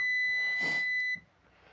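A steady high-pitched multimeter continuity beep holds for about a second, then cuts off, leaving faint background noise.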